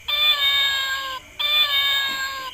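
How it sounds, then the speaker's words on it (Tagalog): A cat lets out two long, drawn-out meows in quick succession, close and clear, separated by a short pause. "Meow? Cat?"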